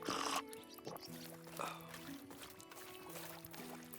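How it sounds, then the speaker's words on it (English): Lake water sloshing and pouring in Medieval Dynasty as a character drinks, several short splashy bursts with a louder one at the start, steady and close, with faint talk underneath. "we'll drink some lake water"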